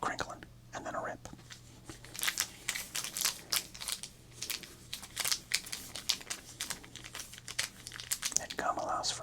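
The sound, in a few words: crinkling and ripping open a 1988 Topps football card pack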